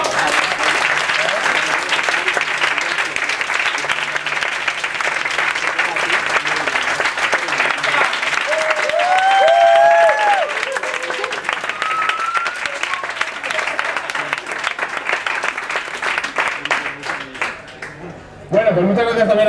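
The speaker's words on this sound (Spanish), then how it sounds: "mega aplauso a Eugenio." Audience applause at a Madrid gathering at The Clover House, dense steady clapping lasting about eighteen seconds with brief cheers mixed in, fading out at the very end.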